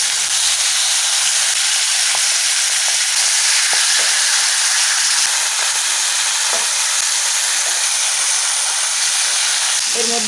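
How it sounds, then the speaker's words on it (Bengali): Fish maw frying in hot salted oil in a wok, a loud continuous hissing sizzle that stays even for the whole stretch. "প্রথমে পটকাটা ভাজে নেব"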